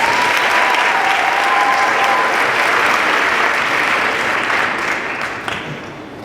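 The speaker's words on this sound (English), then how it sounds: "can we please give a round of applause for our speakers?" Conference audience applauding the speakers at a Muslim student association gathering: a large hall full of steady, loud, dense clapping that holds evenly before tapering slightly near the end, with a faint tone early on.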